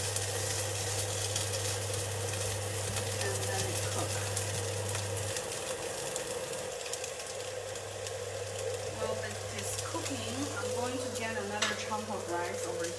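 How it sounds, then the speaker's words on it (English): Food stirred in a pan as it cooks on a stove, with steady sizzling and scraping of a spoon running throughout alongside a low appliance hum. "Stir it a little bit, and then cook."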